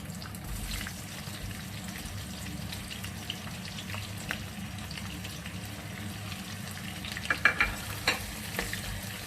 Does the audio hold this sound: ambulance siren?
no